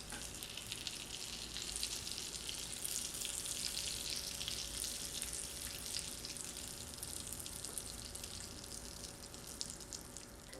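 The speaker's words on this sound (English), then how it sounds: "Heat the oil until it's really hot and pour over the dry ingredients." Hot oil poured over dry chili crunch ingredients, a steady dense sizzle and crackle running loud and close throughout with no pauses and no talking.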